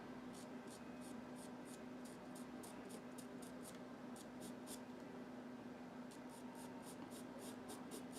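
A pencil moves on paper during a pastel portrait drawing, producing faint, soft rhythmic strokes in quick bursts over a steady low hum.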